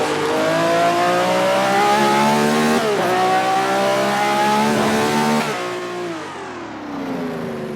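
A car engine revs and pulls steadily along a road, a loud, close, continuous drone with rising pitch that dips briefly around gear changes, then eases off near the end.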